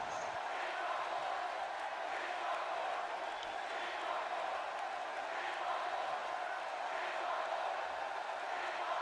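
A wrestling arena crowd at a WCW event roars and cheers steadily throughout, a dense continuous wall of voices with no clear breaks, loud and unbroken.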